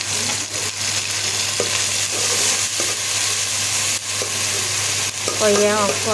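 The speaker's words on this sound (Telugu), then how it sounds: "ఇప్పుడు కడిగి పెట్టుకున్న రొయ్యలు వేద్దామండి." Washed prawns drop into hot oil and fry with a loud, steady sizzle that crackles continuously, with occasional stirring scrapes and a brief voice near the end.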